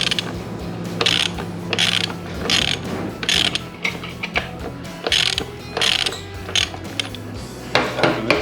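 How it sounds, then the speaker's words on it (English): Socket wrench ratcheting on a 22 mm bolt of a Suzuki motorcycle's lowering linkage, with a spanner holding the 24 mm side: bursts of rapid clicking repeat in short strokes, close and clear, with no talk. "I've got a spanner on one side and a socket on the other."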